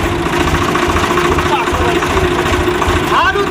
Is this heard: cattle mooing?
no